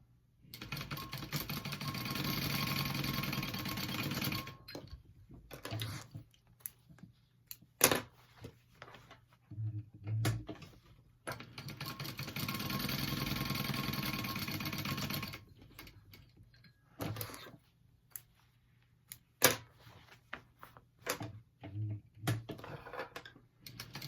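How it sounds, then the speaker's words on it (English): A King Max sewing machine top stitching a clutch wallet, running in two long bursts of rapid mechanical stitching separated by quieter clicks and handling sounds, close by with no talk. "I am sewing on a King Max"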